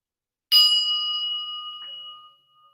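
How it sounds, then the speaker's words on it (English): A single bell ding marks a breathing exercise: one bright, clean strike that rings on with a long, steady tone and slowly fades in a quiet room. "The time between the dinging of the bell was about 8 minutes and 45 seconds."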